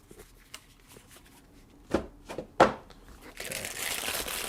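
Packaging for a Boss TB-2W Tone Bender pedal being cut open on a workbench: a few sharp slicing and tearing bursts, then a sustained crinkling rustle of wrapping near the mic, fairly quiet overall.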